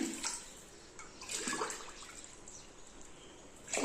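Water splashes and trickles in short pours into a pot for vegetable biryani, glass by glass, a few separate gushes with quiet gaps between, close by.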